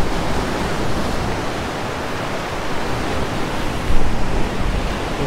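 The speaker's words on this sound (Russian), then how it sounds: "Я прям как ребенок радуюсь этим волнам." Storm waves crash and surge inside a sea grotto on the Fiolent coast of Crimea, a steady loud roar of surf with a heavier swell breaking near the end.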